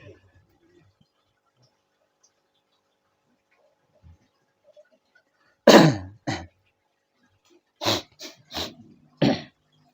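A person coughs several times in short, harsh bursts, one strong cough followed by a few more spaced over a few seconds, close and fairly loud after a quiet stretch.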